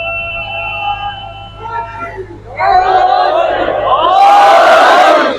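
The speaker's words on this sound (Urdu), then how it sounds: "اگر آخر سے ایک نعرے کی آواز آئے تو زیادہ اچھا لگے گا" A crowd at a Muharram majlis gathering answers with a loud chanted slogan from the back, rising suddenly after a lone voice and swelling into a roaring collective shout.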